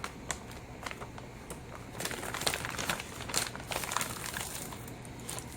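Crinkling and rustling as a Happy Skin package is opened during an unboxing haul, soft scattered crackles at first, then denser close-up crumpling in irregular bursts.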